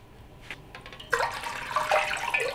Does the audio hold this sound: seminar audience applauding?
no